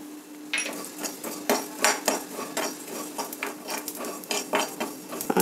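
Cumin and coriander seeds roasting in a pan are stirred with a utensil, giving repeated close scraping and clinking strokes over a faint sizzle, with no talking.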